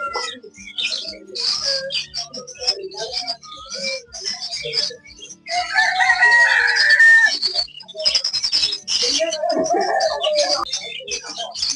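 Chickens kept together with a cat at a roadside market on Dalazak Road in Peshawar, Pakistan, cluck, squawk and crow close by in a dense, continuous chorus over busy background noise.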